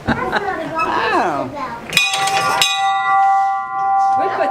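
A speaker talks briefly, then a metal bell at an old mill clangs sharply, ringing to warn that the machinery is starting, and its tone hangs and decays for a couple of seconds before speech returns.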